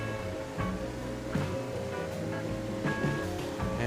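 Ocean surf rolling and breaking on a reef at Curramundi on the Sunshine Coast during a surfing competition, a steady broadband wash with several swelling surges, fairly close and continuous with no voices.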